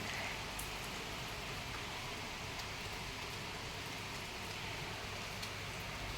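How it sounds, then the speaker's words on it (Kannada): Early-morning rain falling in Hubli, a steady, even wash of soft hiss with faint scattered drop taps, fairly quiet and distant throughout, with no voices. "ನೋಡಿರಿ ಆರೂವರೆಗೆ ಇಲ್ಲಿ ಹುಬ್ಳ್ಯಾಗ ಮಳೆ ಸ್ಟಾರ್ಟ್ ಸ್ಟಾರ್ಟ್ ಆಗಿದೆ"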